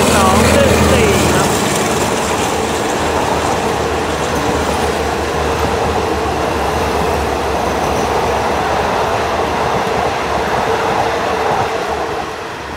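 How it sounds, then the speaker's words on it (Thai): Alsthom locomotive 4214 hauling express train 84 from Trang to Bangkok, a loud, steady rumble of rolling wagons and wheels on rail with faint clatter, sustained close by throughout. "4214นะครับทำขบวนด่วนที่84นะครับต้นทางตรังไปทางกรุงเทพนะครับ"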